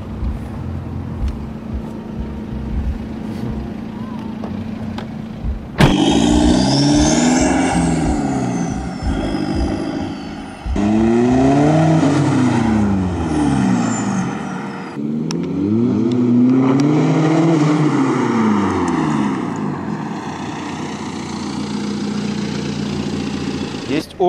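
A BMW 123d twin-turbo diesel car revs hard through several gears, each pull rising then dropping at the shift, loud and close from inside the cabin, with people talking at times.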